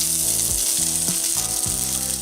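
Pulled pork hits a hot oiled pan for a grilled cheese sandwich, giving a steady, loud sizzle and hiss throughout with a few soft thumps and shifts as the meat settles.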